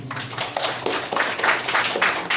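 Audience clapping at a community health-therapy outreach gathering, a short burst of irregular claps from a modest crowd, fairly close and steady throughout.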